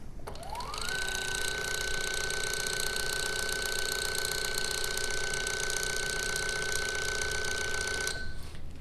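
An automated cell processing pump starts up with a rising electronic tone that settles into a steady high whine and hum, running continuously for several seconds before cutting off, close and without talk.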